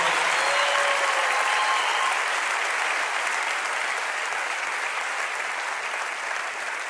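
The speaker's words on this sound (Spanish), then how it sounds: "Un aplauso para Lili," A church audience gives Lili a steady, full round of applause, dense and even throughout with no voices, fading slightly toward the end.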